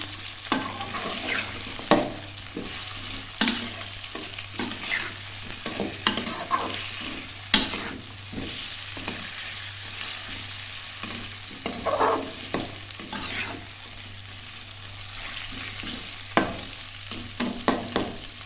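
Ginger-garlic paste being stirred into boiled mutton frying in a pan, with a steady sizzle and repeated scraping, clattering spoon strokes throughout.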